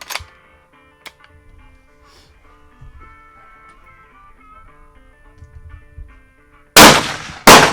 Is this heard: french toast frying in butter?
no